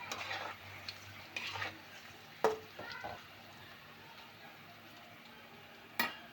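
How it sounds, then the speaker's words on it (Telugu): Okra (bhindi) deep-frying in a pan on low flame while being stirred, giving a soft steady sizzle broken by a few scraping utensil strokes and sharp clinks against the pan. "సిమ్లో పెట్టినా కూడా ఆల్రెడీ డీప్ ఫ్రై అయిపోతున్నాయి."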